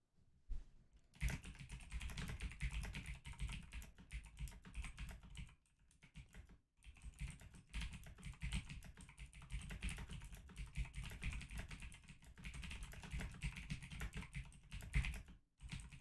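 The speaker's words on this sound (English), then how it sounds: "I think this keyboard is going, guys, because it keeps giving me double keys all over the place." Rapid, dense typing on a worn computer keyboard that double-registers keys, steady clatter close up with a brief pause near the middle and another near the end, no voices.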